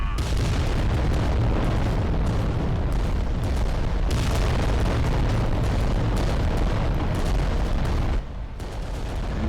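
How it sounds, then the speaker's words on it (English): Volcano cannon shots and other blasts in the Adeptus Titanicus: Dominus game, a dense, continuous barrage of loud booming explosions and rumbling impacts that eases off briefly near the end. "Couldn't tell if my volcano cannon shots got through"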